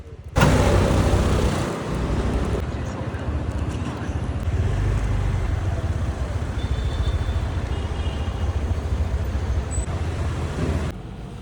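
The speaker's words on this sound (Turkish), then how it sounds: "Klasik İstanbul trafiğinde yol almaya devam." A car moving through classic Istanbul traffic, recorded from inside: a continuous broadband road and engine rumble with wind-like noise, steady and fairly loud for about ten seconds with no speech.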